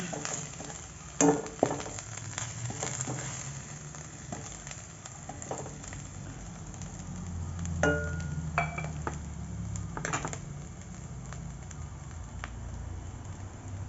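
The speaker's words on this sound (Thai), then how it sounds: "ผัดให้หอม" Vegetarian ingredients sizzle gently as they are stir-fried in a pan, with the occasional clink and scrape of a utensil against the pan over a steady low frying hiss.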